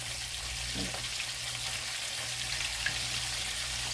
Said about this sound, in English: So we're going to let these fry until golden brown.